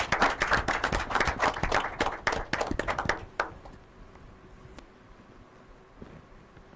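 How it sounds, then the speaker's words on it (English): Applause and clapping from an audience at an inter-collegiate quiz and debate competition, fairly close and dense for about three seconds before thinning to a few scattered claps and quiet room tone. "let's make a rousing applause for the lead speaker from Iwere College"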